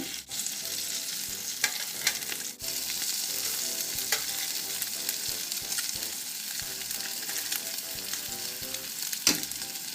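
Crumbed lamb cutlets fry in a pan with a steady, loud sizzle and crackle, broken by a few sharp knocks and scrapes as they are turned over.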